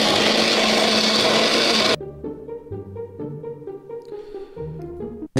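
A newly bought blender mixes a banana-and-date shake with a loud, steady whir for about two seconds, then cuts off abruptly, leaving quieter tonal sounds afterward.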